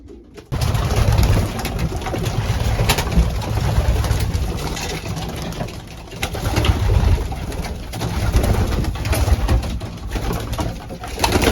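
Racing pigeons coo in a loft, low soft calls repeating through a steady background of rustling and flapping, close and continuous with no talk.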